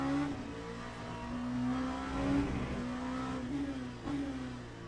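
In a racing video game, a race car brakes into the tight hairpin at Bahrain with engine revs dropping and then climbing again. A steady, moderately loud engine drone runs alone with no talk.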